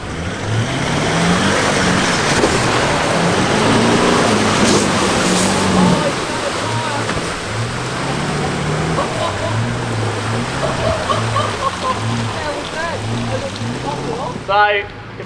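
A 4WD engine revs and labours in two-wheel drive over rough Victorian high-country track, a loud steady drone with rising and falling pitch, voices talking over it throughout.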